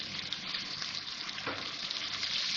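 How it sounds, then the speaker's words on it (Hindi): A little water goes into spices frying in a pan, and a steady sizzling hiss briefly surges midway through the short stretch. "थोड़ा सा पानी डाल दूँ, बस जले नहीं मसाला"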